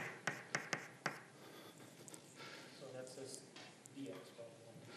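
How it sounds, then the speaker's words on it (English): Chalk or marker tapping and scraping on a board during a mathematics lecture, a few sharp knocks at the start followed by softer strokes, with a lecturer talking over them in a room. "So let me write it like this."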